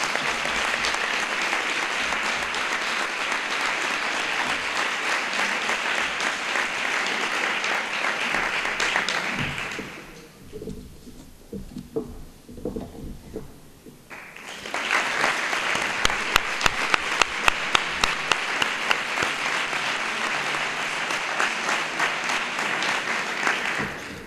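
Loud, sustained applause from a large crowd at a school anniversary gala, dipping briefly in the middle before swelling again, with some rhythmic clapping near the end.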